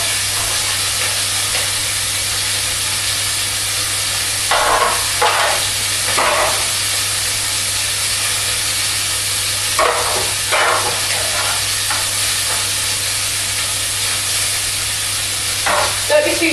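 Spiced lamb chunks with a curry aroma fry hard in a hot pan, giving a loud, steady sizzle with brief louder crackling bursts as the meat is stirred.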